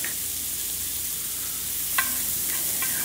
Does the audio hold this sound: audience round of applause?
no